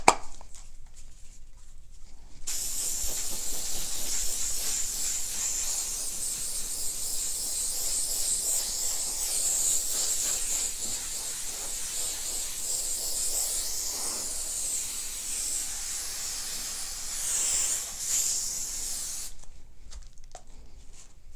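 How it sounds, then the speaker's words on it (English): A long, steady hiss of an aerosol spray can running continuously for many seconds, close and even, then cutting off abruptly. "now let's go ahead and spray"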